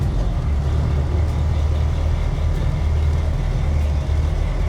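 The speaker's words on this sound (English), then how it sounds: "Engine's idling smooth. Right after a cold start." A 1947 Ford Deluxe Coupe hot rod idles steadily just after a cold start, a deep, even low-pitched rumble that stays loud and close throughout without any revving.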